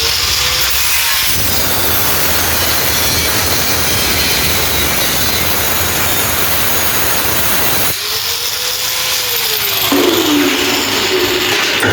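A loud, continuous industrial machine drone with grinding, rasping metal noise, steady throughout with a brief shift in tone near the end.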